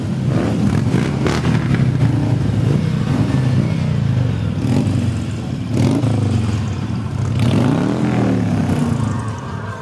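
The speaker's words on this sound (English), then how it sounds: "These are the Patriot Guard riders, another motorcycle group that's very active in East Tennessee." Motorcycles of the Patriot Guard Riders passing in a Veterans Day parade on Gay Street, Knoxville, a loud continuous engine rumble with rising revs and clatter as bikes roll by close.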